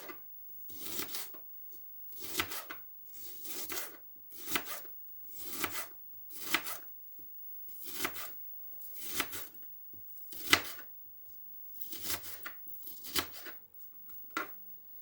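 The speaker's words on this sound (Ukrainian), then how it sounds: "І так поріжу всю цибульку." Knife slicing onion into thin strips on a board, about a dozen separate soft crunching strokes at a steady unhurried rhythm, close and quiet.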